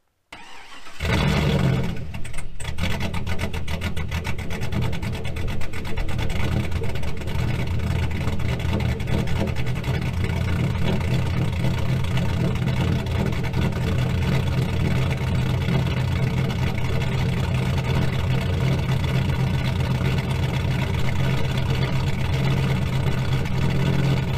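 A cammed 5.3 V8 in a GMC Sierra pickup on the stock tune cranks and catches, then settles into a loud, steady, lumpy idle that rumbles on continuously, close by.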